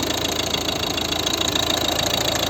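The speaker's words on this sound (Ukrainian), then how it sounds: "Ось робота двигуна." A 2011 Volvo V50 facelift's 1.6 HDi diesel engine idles close by with a steady, rapid knocking rumble that holds evenly the whole time.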